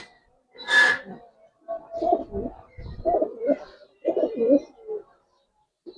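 A pair of Giribaz pigeons, home-raised birds with pearl-coloured eyes, coo close by in several low, throaty bursts separated by short pauses, with no clear talk over them.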